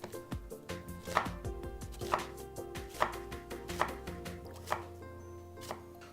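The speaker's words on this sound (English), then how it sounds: "We're gonna slice it down." A knife slicing through an onion on a cutting board, six or so evenly spaced crisp chops ringing out close and clear with no talking.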